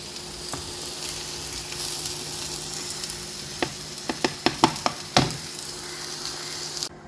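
Bananas frying in ghee in a pan, a steady close sizzle throughout with a run of sharp clicks and taps from a utensil toward the end.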